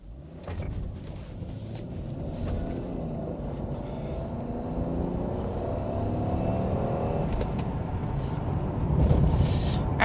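A Toyota Supra MK4 with a four-speed automatic gearbox drives down the road, its engine a steady low drone with rising tones as it pulls through the gears, growing louder toward the end, with no talking.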